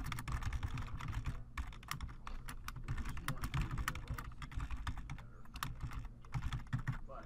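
An admin name is typed on a computer keyboard in rapid, irregular clicking keystrokes, close and steady throughout with brief pauses between bursts; no speech.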